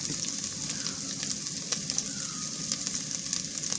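Chopped onion and green chilli fry in hot oil, a continuous close sizzle dotted with small pops and crackles, with no voices.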